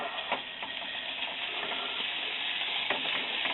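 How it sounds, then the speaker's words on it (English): Steady, close sizzling of ground beef in a hot pan, a constant crackling hiss with small pops and the odd scrape. "You can hear it sizzling over there."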